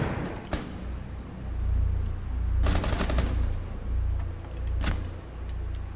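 Gunfire in the video game Rainbow Six Siege, a couple of sharp loud shot bursts over a steady low rumble of game ambience, no talk.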